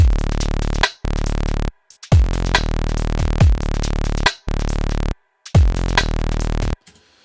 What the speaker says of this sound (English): all I have here is just a CRM patch with a little bit of the Ableton sidechain.